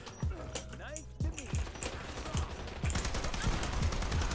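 Rapid bursts of shotgun fire from the online shooter Dirty Bomb crack out repeatedly, with several loud blasts layered over constant game noise and a voice talking throughout.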